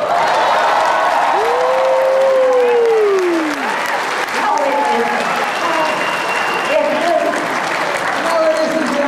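An audience at a Star Trek convention Q and A bursts into sustained, dense clapping and cheering that fills the room, with voices calling out within it.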